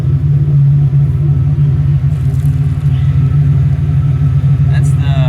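A 1988 Ford Bronco II with a Flowmaster 44 dual-exit exhaust idles with a steady, deep rumbling burble, loud and close, holding an even rhythm throughout.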